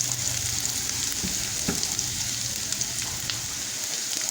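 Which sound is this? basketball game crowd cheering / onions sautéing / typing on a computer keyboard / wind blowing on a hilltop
onions sautéing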